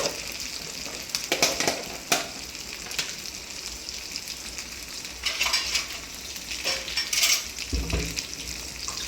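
Tomatoes sauté in a pan with ginger-garlic paste for an egg gravy, giving a steady close sizzle with intermittent scraping and stirring bursts of a spoon against the pan.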